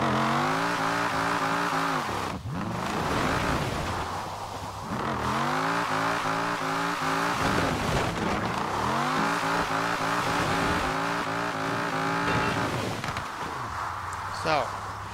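An Eleanor 1968 Mustang GT drifting in the video game Forza Horizon 4, its engine revving up and dropping in repeated loud sweeps with tire squeal, steady and close throughout.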